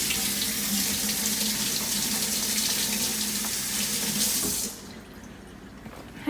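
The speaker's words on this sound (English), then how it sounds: "First of all, I'm going to wash it." Tap water runs into a kitchen sink as apples are rinsed, a close, steady splashing stream that shuts off abruptly near the end, leaving quiet room tone.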